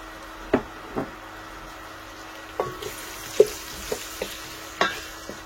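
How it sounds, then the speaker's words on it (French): Spinach, eggplant and okra fry quietly in a pan while being stirred, with a low background sizzle broken by about eight separate spoon scrapes and knocks at uneven intervals. "Ne pas que ça crame, hein. Bien tourner."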